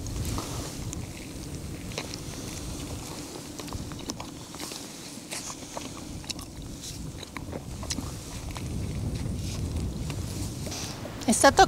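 Wind buffets the microphone with a low, continuous rumble, swelling and easing over several seconds, with faint clicks and rustles on top, outdoors in the mountains of Val Germanasca, Piedmont.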